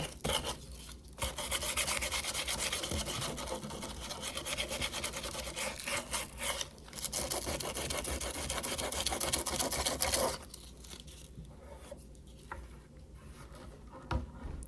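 Continuous, close rasping friction of wet distressing rubbed back and forth over a painted wooden tea table, pausing briefly twice before a quieter stretch.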